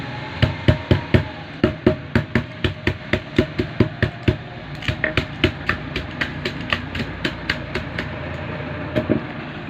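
A hammer taps wires into a single-phase motor winding in a steady run of about two dozen sharp, close metallic strikes, evenly spaced and gradually softening toward the end.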